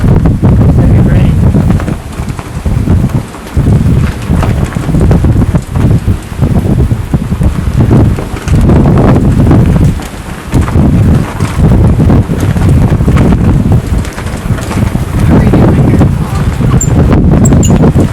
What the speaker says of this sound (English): Some heavy rain.